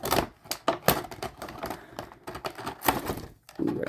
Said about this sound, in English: so I'll have to take the tape out.